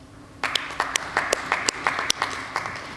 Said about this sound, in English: I think we'll also give you a round of applause.